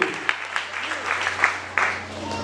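A church congregation applauds, with brief bursts of clapping and a steady low hum underneath across a couple of seconds.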